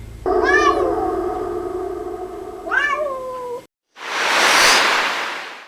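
A cat sitting beside a television meows in one long, drawn-out wavering cry, then gives a second rising meow, loud and close, followed after a short gap by a burst of broad rushing noise.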